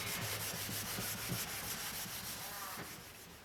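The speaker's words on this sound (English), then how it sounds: "Just buffed off the third coat of the wax polish" Wax polish being buffed off a refurbished cricket bat with a cloth, a continuous close rubbing and scrubbing sound with soft rhythmic strokes throughout.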